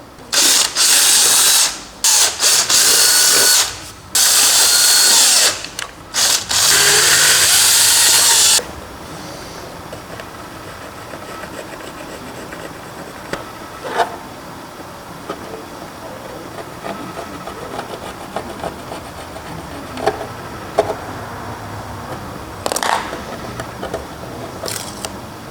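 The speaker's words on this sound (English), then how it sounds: "Drywall Dremel." A Dremel rotary tool cuts into drywall in several loud, harsh bursts of high-pitched whine separated by brief pauses, followed by a long stretch of quiet handling clicks and small taps.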